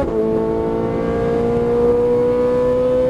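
A Ferrari 458 Italia V8 on a Las Vegas race track pulls hard under steady throttle, its engine tone climbing smoothly with strong harmonics. The sound stays loud and close throughout, with no talk over it.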